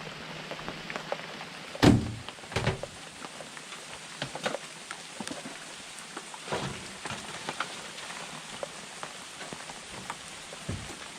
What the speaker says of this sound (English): And we got a little bit of rain.